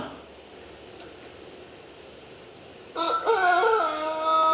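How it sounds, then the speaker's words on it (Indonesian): After a few quiet seconds, a rooster crows loudly and close, one long drawn-out call over faint background noise. "Mana suara ayam?"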